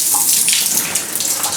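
Shower water runs steadily in a cabin bathroom with hot and cold taps, a broad close hiss of spray filling the short stretch without pause.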